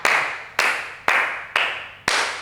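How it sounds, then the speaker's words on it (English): Five slow, evenly spaced hand claps ring out in a room during a Canadian barn dance workshop, each sharp strike followed by a lingering echo. "we're just going to clap the hands round in a circle"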